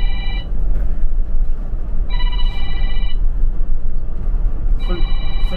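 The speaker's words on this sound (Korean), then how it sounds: "술 먹자고 전화 오네." A telephone rings for an incoming call, three electronic trilling bursts spaced about two seconds apart, sounding over a steady engine rumble inside a bus.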